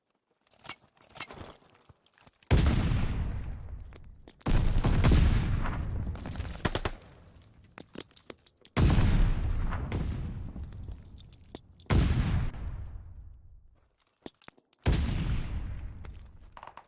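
Gunfire in a competitive shooter esports match, as several separate bursts of sharp, loud shots, each followed by a long ringing echo that fades out, set apart by short quiet gaps.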